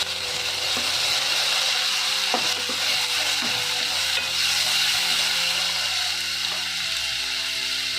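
Chopped tomatoes and curry leaves frying in oil for a simple home-style rasam, a loud continuous close sizzle with occasional stirring knocks and scrapes, no voices.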